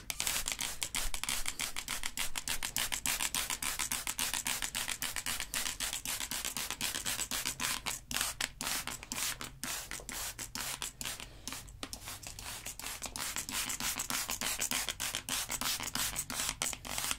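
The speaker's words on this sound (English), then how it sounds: "I shall maneuver this water bottle around you." A water spray bottle being moved close around the listener, giving a steady, dense hissing and scratchy rustle that continues for the whole stretch, close and soft with no talking.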